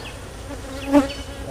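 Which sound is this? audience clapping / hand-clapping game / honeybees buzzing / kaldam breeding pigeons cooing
honeybees buzzing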